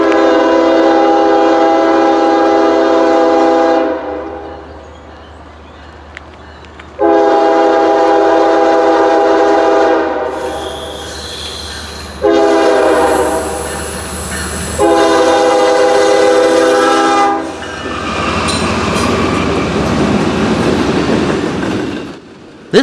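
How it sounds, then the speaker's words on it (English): A train passes close by in northeast Alabama or south Tennessee, sounding four long, loud horn blasts with short gaps, followed by the rumble and clatter of cars rolling past. "another train appears"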